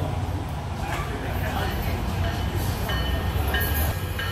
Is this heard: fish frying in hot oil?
no